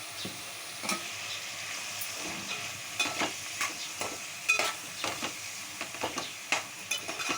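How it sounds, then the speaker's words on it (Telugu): Beans and potato curry frying in oil with salt and turmeric, a continuous low sizzle broken by repeated scraping stirs and light spoon knocks, close and fairly quiet. "ఆయిల్లో ఒక 5 మినిట్స్ ఇట్లా ఫ్రై అవ్వాలి."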